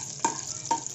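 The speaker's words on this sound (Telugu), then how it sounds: "కరివేపాకు వేసుకోవాలి. ఎర్రక కాలం ఉండాలి. వేసుకొని ద్వారగా వేయించుకోవాలి పోపు గింజ." Mustard seeds, dried red chillies and curry leaves crackle as they fry in hot oil for an Andhra egg pulusu tempering, with a steady sizzle and two sharp stir or spatter bursts close by.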